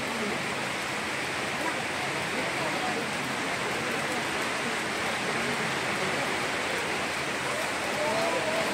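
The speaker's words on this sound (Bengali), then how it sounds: "দেখো বন্ধুরা, এখন বৃষ্টি শুরু হয়ে গেছে, তাই আমরা মন্দিরে চলে এসেছি" A downpour pours down outside a temple in a steady, full hiss that stays loud and unbroken for the whole stretch.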